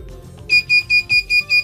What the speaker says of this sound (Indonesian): alarm berbunyi tidak terdaftar